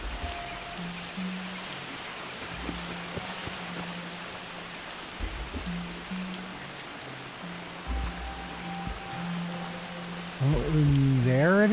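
Rain in the video game Far Cry 2 patters steadily under low game tones and hums, with a rising electronic sweep near the end and no speech.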